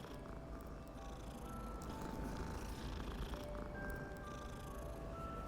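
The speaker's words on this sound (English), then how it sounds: "It's a kitty cat." Cat purring in the video game Hogwarts Legacy, a steady low rumble that continues throughout, with faint game music tones above it and no voices.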